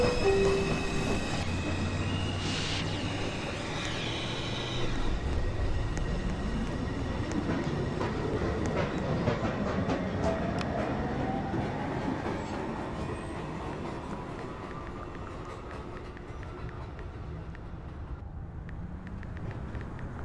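A Manhattan-bound NYC subway 2 train pulls out of the station, its rumble building into a long rising whine as it gathers speed, loud and continuous with rail noise throughout.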